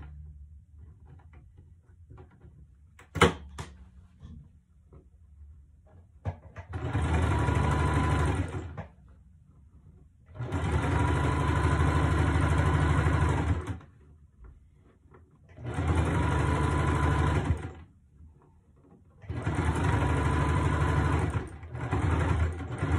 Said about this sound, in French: Et de chaque côté du tissu, on va faire une couture pour bien les aplatir et bien les ouvrir.